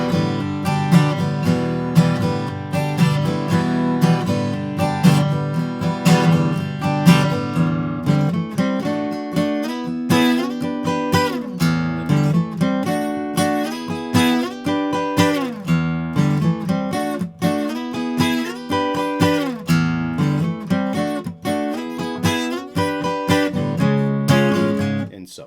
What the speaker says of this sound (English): he does a little guitar solo that sounds something like this.